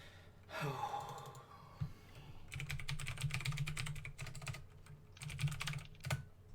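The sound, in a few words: typing on a computer keyboard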